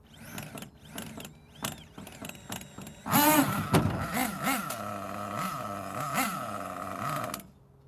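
A Hot Bodies HPI D8S nitro RC buggy engine with a 3.5 engine, first in brief sputtering bursts, then running continuously from about three seconds in, close and loud with a buzzy, wavering idle that rises and dips.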